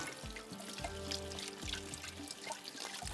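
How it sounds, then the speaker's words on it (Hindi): Water from boiled macaroni pours out into a sink in a steady splashing stream, with soft irregular gurgles and no talking. "बॉयल करने के बाद इसका पानी फेंकती हूँ"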